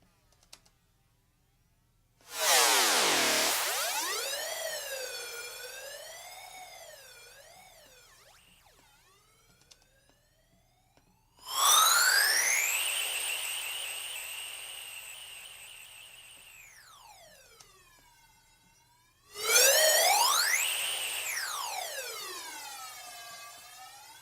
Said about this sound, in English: Now let's get this flanger.